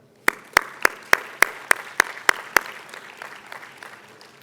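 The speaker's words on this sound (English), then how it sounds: "I think Bank Rakyat deserves an applause for that" Slow, evenly spaced claps ring out about nine times in a reverberant hall during a talk on the planet's future, each sharp crack echoing before the sound fades into a lingering tail.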